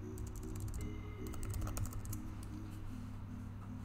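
Someone types a search on a computer keyboard, with quick bursts of soft key clicks in irregular runs over a steady low hum, fairly faint, and no talking.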